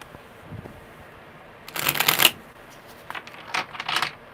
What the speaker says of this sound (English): These are really good shuffles.